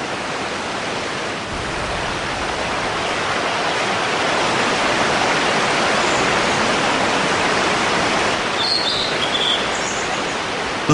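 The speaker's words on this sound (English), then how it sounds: "The meltwater flows into babbling mountain streams." Meltwater rushes down a babbling mountain stream in spring, a steady, full broadband roar of flowing water throughout, with faint bird calls near the end.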